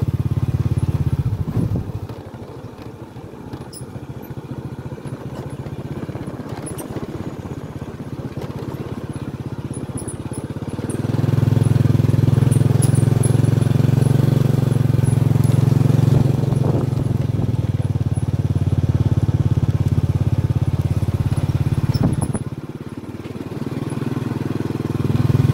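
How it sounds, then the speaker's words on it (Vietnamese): Motorbike engine running close by on a street, a steady low droning hum that swells louder through the middle and then eases off, with faint clatter around it. "Xe máy"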